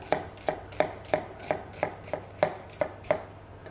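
Knife slicing a leek on a cutting board, about ten crisp, evenly spaced chops at a steady rhythm, close and clear with no voices.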